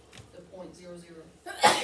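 A single sharp sneeze bursts out loudly right after a brief stretch of classroom speech, breathy and close.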